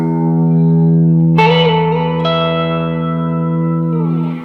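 Electric guitar played through an EVH 5150 Iconic Series 15W 1x10 tube combo with reverb, sustained distorted chords with a sharp restrike partway through, trailing into a long, smeared reverb tail throughout, with no voice.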